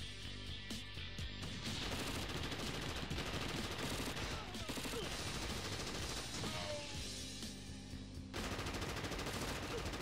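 Machine guns fire in the war strategy game Crisis by RJ Games, as a continuous, loud, dense battle din of rattling bursts and blasts with no voices.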